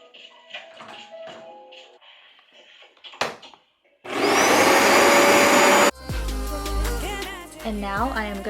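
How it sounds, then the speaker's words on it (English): A carpet shampooer machine starts up loudly on a room's carpet, its steady roaring drone running for a couple of seconds before giving way to music and clattering, with quieter handling noises beforehand. "And now I am gonna go ahead and start shampooing the carpets."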